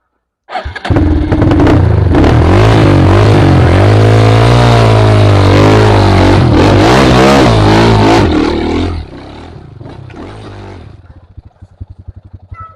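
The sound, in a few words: trail motorcycle engine revving on off-road mountain track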